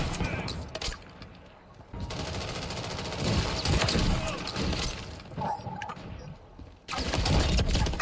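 Light machine gun fire in a first-person shooter video game, rapid bursts of dense automatic shots with crashing impacts, loud and continuous with brief gaps, mixed with faint background game noise.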